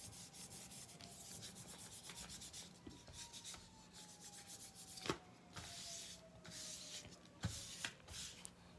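Paper pressed and rubbed by hand over a Gelli printing plate with a stencil design underneath, giving a steady soft rubbing and brushing texture with occasional sharper scrapes, close and fairly quiet.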